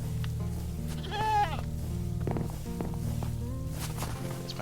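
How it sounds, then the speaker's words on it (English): Minecraft goat bleating in a wavering, nasal cry near the start, followed by shorter bleats and soft in-game footsteps, with no talking over it. "That's my goat."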